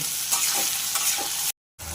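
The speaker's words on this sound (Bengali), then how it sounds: "এবার এইগুলোকে আমি ভালো করে ভেজে নেব।" Chopped onion, capsicum, tomato, ginger and garlic fry in oil while being stirred, giving a steady close broadband sizzle with soft scraping strokes, broken by a brief silent gap near the end.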